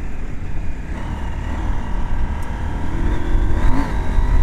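A KTM 790 Adventure motorcycle engine drones and builds as it accelerates, loud and close, with wind noise and a steady rising rumble.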